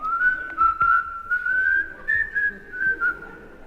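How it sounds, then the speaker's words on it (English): A person whistles a cheerful, steady tune alone, with a clear wavering melody in short phrases, close and fairly loud, in a 1968 live comedy-music performance. "Whistling happy police songs."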